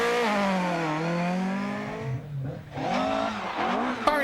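A Ford Escort MKII rally car spins out on an Irish rally stage, its engine wailing and dipping in pitch as the revs fall and then climb again, loud and close.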